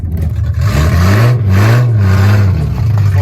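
A Datsun 240Z engine with open headers and no muffler revs loudly up close, its deep roar rising and falling in pitch with a raspy, unmuffled edge.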